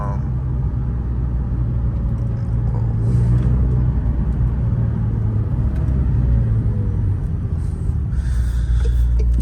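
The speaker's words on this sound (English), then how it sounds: "the engine is right behind you, so you hear everything" Engine of a McLaren 720S, mounted right behind the cabin, gives off a deep continuous rumble while driving through a city at night, steady and loud throughout.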